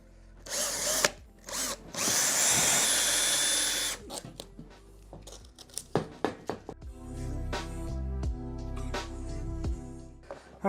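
A power drill whirs loudly in several bursts of a few seconds each, drilling holes in a wall to mount a TV, with clattering knocks and handling noise between the runs.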